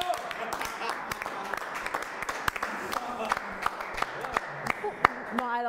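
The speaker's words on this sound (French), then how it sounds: "les applaudissements sont plus nourris que ceux qui sont ici" Scattered applause from a small audience at an indoor gathering, uneven individual claps popping irregularly throughout while voices chatter underneath.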